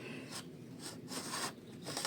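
A hand saw rasps through material in a vegetable garden, four or five short back-and-forth strokes in an uneven rhythm, faint and close with no one speaking.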